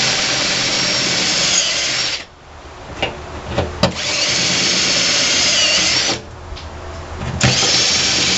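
A step drill (unibit) enlarges holes to 3/8 inch in a steel hi-lift jack mount bracket on a 1992 Bronco, running loud and steady in two long bursts separated by a short pause with a few brief clicks.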